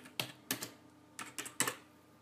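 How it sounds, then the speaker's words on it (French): Five or six quick keystrokes on a computer keyboard, spaced in short bursts as a command is typed, faint and close against a quiet background. "on tape la commande"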